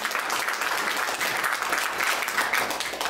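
A crowd at a Constitutional Convention reenactment applauds a deputy, with a thick, continuous roar of many hands clapping, evenly loud throughout and no voices over it.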